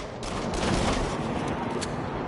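Rapid gunfire at cameras in the VR shooter game Until Dawn: Rush of Blood, a dense burst of repeated shots over a rumbling game backdrop, with a few sharper cracks standing out.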